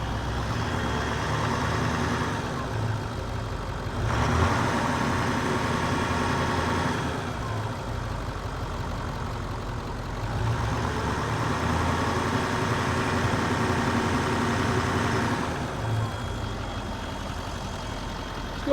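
A Cummins diesel in a Nissan Titan idles steadily at close range with a low, even rumble, swelling in a few brief revs before dropping back to idle.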